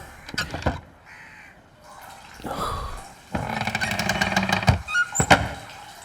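A crow caws in several harsh bursts close by in a quiet outdoor setting, with brief voices between the calls.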